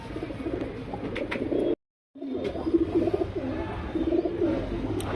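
Gulzar pigeons, a pair offered for sale, cooing nearby in soft repeated throaty phrases over low background noise, with a brief silent gap partway through.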